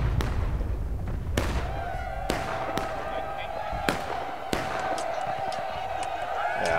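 Artillery cannons fire in the Civil War game War of Rights, a string of sharp, cracking bangs at uneven intervals over a steady rumbling battlefield, with a sustained tone and some voices underneath.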